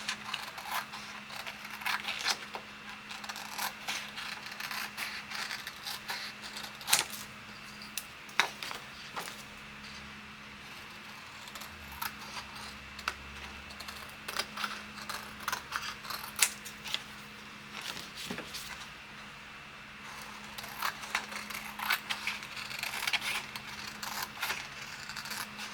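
Scissors trimming the white edges from a printed image for a plastic school folder, with scattered snips and paper rustles over a steady low room hum, quiet and close; no talking.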